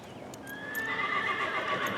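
A mare whinnies while her bridle is being put on, a loud, drawn-out neigh rising and holding steady for over a second, with faint clip-clop and stable noise around it and no talk.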